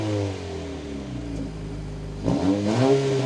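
The engine of a 2025 Honda Civic Si idles with a steady low drone, then rises into a short rev whose pitch sweeps up and settles back, close and fairly loud with no talk.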